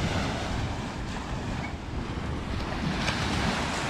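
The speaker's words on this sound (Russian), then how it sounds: "ну что по морю могу сказать, такая информация, что здесь как бы есть волны" Sea surf washing onto a resort beach on Phu Quoc, Vietnam, a steady broadband wash of breaking waves with wind noise buffeting the microphone throughout, close and continuous with no voices.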